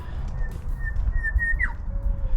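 An eastern whipbird gives a long, thin whistle that ends in a sharp downward whip-crack, loud and close over low engine and wind rumble outdoors.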